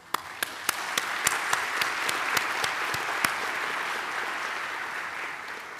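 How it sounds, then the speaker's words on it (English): A large graduation audience at a Mandela University Faculty of Science ceremony in Gqeberha applauds: a few sharp, distinct claps open the clip, then dense, steady clapping continues evenly to the end. "Please join me in applauding them."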